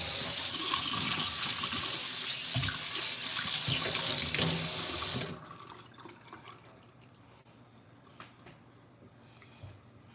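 Water runs loudly from a sink tap while hair is being washed, a strong steady rush for about five seconds before cutting off, leaving faint drips and quiet room sound.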